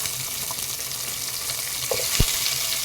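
Onions and tomatoes sautéing in a pan for chow chow sambar, a soft continuous sizzle with a couple of brief utensil knocks near the end, no voices.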